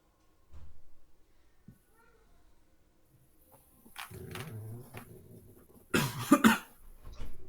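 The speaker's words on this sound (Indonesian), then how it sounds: "Udah, siapa yang batuk?" A few scattered coughs in a quiet classroom during a maths lesson, one near the start and a louder, harsher burst toward the end, with faint voices nearby.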